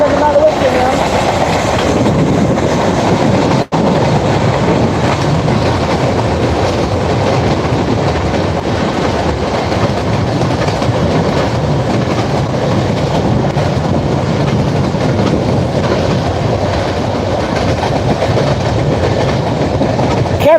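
A Union Pacific grain train rumbles past close by, loud and steady, its wheels clattering rhythmically the whole time.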